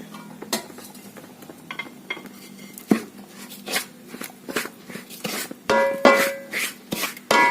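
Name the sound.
stirring rice and jaggery syrup with a spatula in a pan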